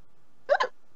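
A single sharp hiccup, a quick doubled vocal spasm, is close and clear against near silence.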